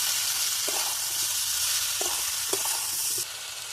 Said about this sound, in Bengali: বাটা মশলাটা আগে দিয়ে দিলাম, দিয়ে ভালো করে একটু নেড়ে ছেড়ে নেবো